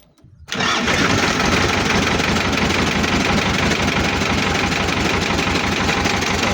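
Xingtai 244 mini tractor engine cranks and catches after a brief quiet moment, then settles into a steady, loud, close idle that runs evenly to the end.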